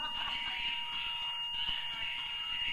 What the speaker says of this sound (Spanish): Alarma de incendio. Vamos a parar.